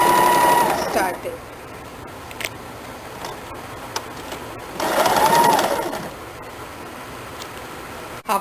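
A sewing machine stitching a kurti runs in two loud bursts of rapid whirring, separated by quieter pauses with light clicks, while someone talks over it.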